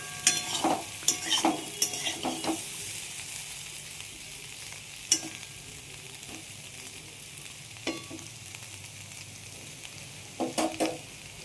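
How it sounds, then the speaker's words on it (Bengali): Small homegrown potatoes fry crisp in oil in a pan, a steady sizzle under repeated scraping and clinks of a spatula, with busier stirring at the start and near the end. "তো দেখো একদম মচমচে আলু ভাজা"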